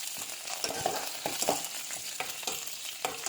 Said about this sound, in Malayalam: വെളുത്തുള്ളി ഇഞ്ചിയും പച്ചമുളക് നന്നായിട്ട് ഫ്രൈ ആവുന്നിട്ടുണ്ട്.